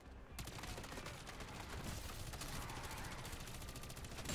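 Rapid sustained automatic fire from an AR rifle in the MW3 Zombies video game, dense and loud throughout after a brief quiet start, with overlapping bursts and no clear speech.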